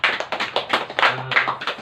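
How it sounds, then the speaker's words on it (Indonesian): Students in a junior high school classroom clap briefly together, a quick burst of rhythmic hand claps, close and fairly loud, with a faint voice underneath. "Tepuk tangan dulu"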